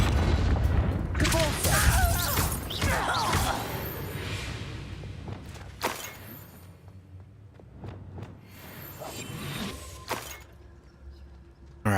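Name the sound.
Descendo spell effect in Hogwarts Legacy video game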